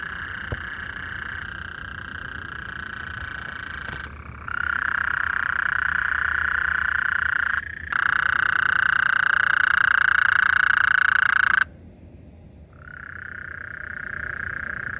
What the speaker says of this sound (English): right up here there's about 6 or 7 Gulf Coast toads, a bunch of them calling